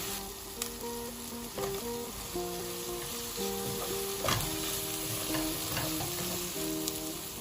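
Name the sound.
frying food in a pan, sizzling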